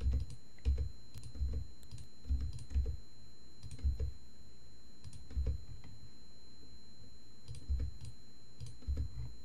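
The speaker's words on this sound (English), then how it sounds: "just hitting my tab button on my keyboard to get the exact" Quiet, close computer keyboard typing in irregular clusters of soft clicks and key presses with short pauses between bursts, alone over a faint electrical hum.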